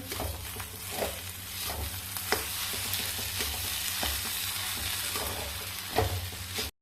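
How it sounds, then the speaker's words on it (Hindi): A spatula stirs fresh coriander leaves into a pan of chole, scraping and tapping in an irregular rhythm over a steady close sizzle, with no talking. "अब यहीं पे हम धनिया के पत्ते डाल देते हैं और इसको भी मिक्स कर लेते हैं"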